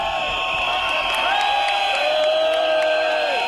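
A rioting crowd gathers outside the House of Commons after a vote, a sustained roar of many voices with whistles and shouted, wailing tones rising and falling over the steady din.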